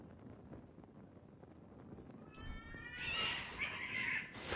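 Cats caterwaul and yowl in Kingdom Come: Deliverance II, a faint quiet backdrop that breaks into loud, harsh screeching cries near the end.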